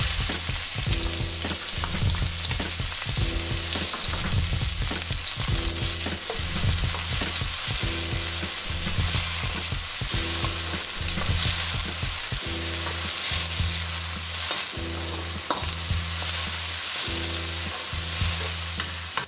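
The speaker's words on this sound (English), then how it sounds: "Swish that around, and then we're going to saute our onions and garlic." Onions and garlic saute in hot oil in a pan, giving a loud, steady sizzle with a regular pattern of stirring and scraping strokes throughout. No one speaks.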